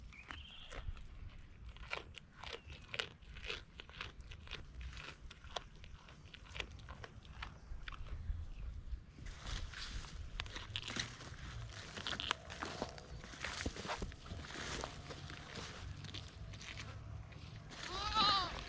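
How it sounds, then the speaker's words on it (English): Goats on a Jamaican farm crunch and bite pumpkin at close range in a rapid, irregular munching rhythm, with bleats breaking through, one sharp bleat near the end. "Yeah man, can see goat them love the pumpkin and everything"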